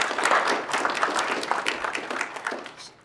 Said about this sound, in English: if we give her a round of applause